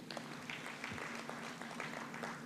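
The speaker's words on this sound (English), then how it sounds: "Another round of applause for him." Audience applause at an economic conference in Uganda, faint and distant, a soft continuous patter of clapping under a steady low hum for a couple of seconds.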